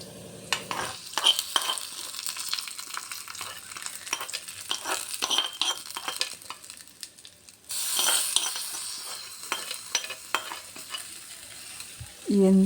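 Grated radish hits a sizzling mustard seed tempering in a pan and is stirred, giving a steady frying hiss with repeated scraping and clinking of a spoon against the pan, close and fairly loud with no voices.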